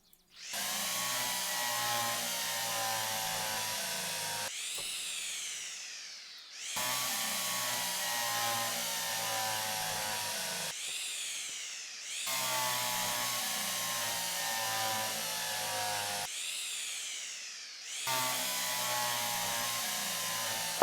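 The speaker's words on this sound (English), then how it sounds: "I like how it puts the screws in for us" A power tool in the video game Derail Valley drives screws into a locomotive fitting, giving four steady whirring runs of about four seconds each, separated by brief pauses.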